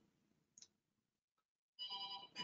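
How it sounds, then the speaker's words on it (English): A mobile phone goes off after a near-silent pause, its bright electronic ringtone starting loud and steady, close by and alone. "That's my phone going off."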